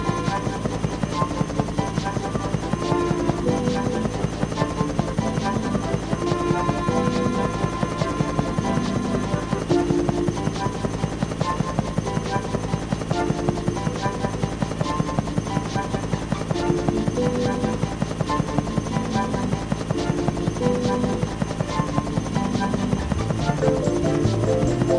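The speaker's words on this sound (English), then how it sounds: "There's a biplane flying near you." A biplane flying near the player in a Thomas and Friends video game, rendered as a continuous, steady engine drone with a rhythmic buzzing pulse that holds constant throughout.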